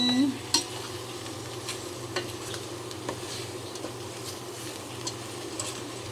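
Curry paste for a wild-style tilapia curry with young pepper is stir-fried in a pan, a steady soft sizzle broken by faint scraping stirs and light clicks, with a brief voice at the start.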